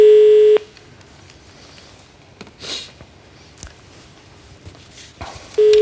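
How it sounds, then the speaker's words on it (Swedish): A telephone line gives a steady tone that cuts off, followed by faint clicks and quiet handling noises, then the tone returns at the end, close and clear. "Det är så att jag ska ringa upp någon här nu."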